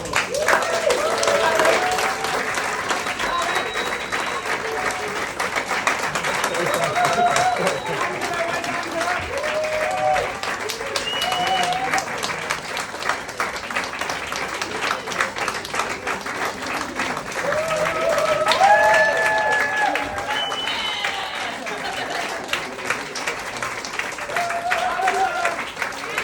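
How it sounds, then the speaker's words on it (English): A theatre audience at an improv comedy show gives sustained applause as the cast returns to the stage, steady clapping carrying on for the whole stretch with some cheering and voices mixed into the crowd noise. "I'm going to invite the cast to come back on stage and give them a big round of applause"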